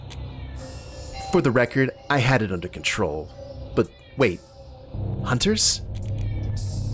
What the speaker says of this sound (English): if you hear a cat in the background, just assume it's an alley cat